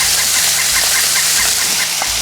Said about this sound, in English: We have birds everywhere.